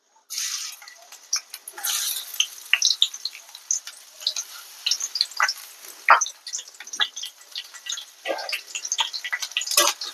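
Onion-garlic paste frying in hot oil in a village kitchen wok, with irregular crackling pops and spits over a steady sizzle, fairly close and moderately loud.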